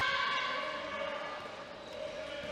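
At a women's handball bronze-medal match, the end-of-match siren holds as a sustained steady tone with strong harmonics, ringing through the arena at moderate volume over crowd noise.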